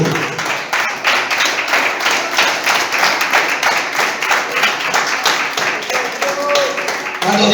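A church congregation claps steadily and loudly for several seconds, a dense continuous wash of hands with voices mixed in underneath.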